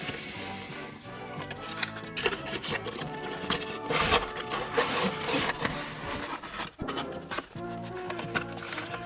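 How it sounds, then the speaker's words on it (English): Cardboard packaging of a GI Joe Classified Tiger Force Dusty action figure is opened from the bottom, with close rustling, tearing and tapping of box flaps in irregular bursts and no talk. "Alright, we will open up little Dusty from the bottom here"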